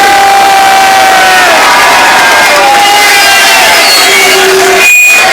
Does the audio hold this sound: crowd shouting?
yes